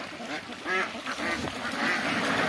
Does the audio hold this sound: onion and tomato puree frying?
no